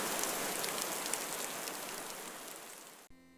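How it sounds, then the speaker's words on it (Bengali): Steady rain falls on an open village road as an even, hissing wash that cuts off abruptly just before the end, with no voices. "বাড়ি যাওয়ার আগেই বৃষ্টি শুরু হলো রে।"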